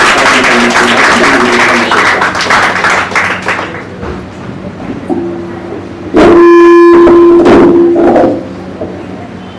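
Applause from a live audience at an evening shayari poetry gathering, a dense wash of clapping that fades out, followed by a steady sustained tone like a horn and some knocking sounds.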